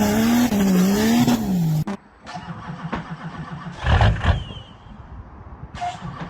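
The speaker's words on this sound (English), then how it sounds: "drifting and beautiful track" A vehicle on a drift track screeches with sustained tire squeal for about two seconds, followed by engine noise, bursts of exhaust and scattered skid sounds at close range.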